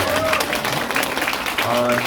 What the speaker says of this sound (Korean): 박수 한번 부탁드릴까요?